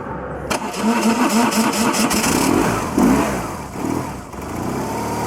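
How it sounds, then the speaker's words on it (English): A BMW R1100RT motorcycle engine cranks with a whirring starter for a couple of seconds, then catches and settles into a rumbling idle. "I'm about to start the engine"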